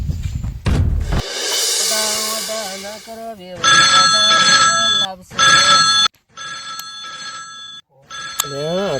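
An incoming call rings on a mobile phone in a Gujarati comedy sketch. The melodic electronic ringtone is loud and close, repeating in bursts after a brief voice at the start.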